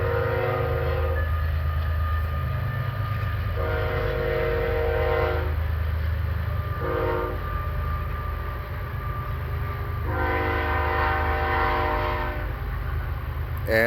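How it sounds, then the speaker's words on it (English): A train rumbles past close by, its horn sounding in several long blasts over the steady roar of the wheels. "Here comes the train."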